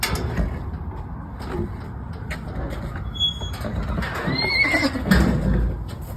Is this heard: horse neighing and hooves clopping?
yes